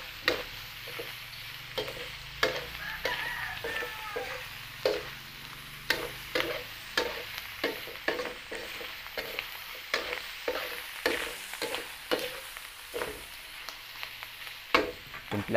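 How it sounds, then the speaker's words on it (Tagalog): Beef innards with skin sautéing in a pan, a soft continuous sizzle broken by frequent sharp scrapes and clacks of a spatula stirring at an irregular rhythm, close and fairly quiet. "Lagay po natin yung ating lamang loob. Gisa natin. Lamang loob ng baka"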